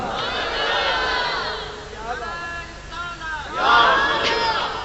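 A large religious gathering of men raising slogans together, a loud sustained crowd roar swelling and falling in waves, with a second surge near the end.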